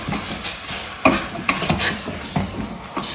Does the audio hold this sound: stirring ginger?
yes